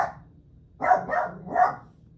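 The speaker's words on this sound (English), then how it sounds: "No, you don't have to bark." A pet dog barks three times in quick succession indoors, close and loud, each bark short and sharp, with a brief quieter sound just before.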